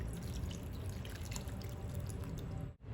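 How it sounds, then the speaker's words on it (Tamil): Water poured over cut ash gourd pieces in a cooking pot for a Kerala-style buttermilk curry. The stream runs as a steady, close trickle and stops abruptly just before the end, with no talk. "இப்போ நம்ம வேக வைக்கிறதுக்காக இந்த பூசணிக்காய் முங்குற அளவுக்கு நமக்கு தண்ணி சேர்த்துக்கலாங்க"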